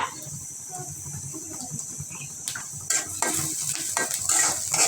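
A spoon stirs potato fry seasoned with turmeric powder and salt in a pan, giving soft scraping and a low sizzle that grows louder with sharper clinks toward the end.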